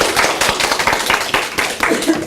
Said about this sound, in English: let's give Janet a big round of applause for doing so well.